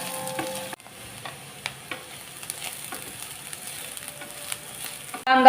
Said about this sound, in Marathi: कांदा आता चांगला भाजलाय.